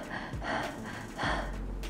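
A person imitates the laboured, broken breathing of a coronavirus patient, giving a few short, close, ragged gasps in an uneven rhythm, with no words spoken.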